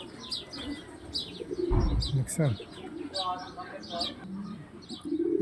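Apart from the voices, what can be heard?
pigeons cooing beside chickens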